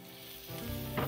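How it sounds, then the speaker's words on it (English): Steak searing in a hot pan, a steady close sizzle that swells louder toward the end as the meat settles in, with no voices over it. "when you wanna apply the steak to the pan, you wanna start with a sear."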